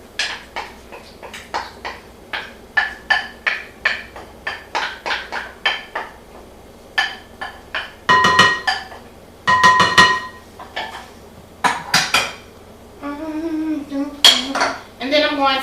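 A spoon scrapes and taps against a mixing bowl while pumpkin puree goes in for crumb-cake muffin batter, making a quick run of bright clinks and knocks. Later come louder metallic rattles and a brief grinding whir, all close and without talk.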